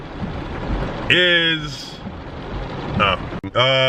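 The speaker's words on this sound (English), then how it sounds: "I hope you can hear me over the rain" Steady rain patters continuously, loud and close, while someone talks over it.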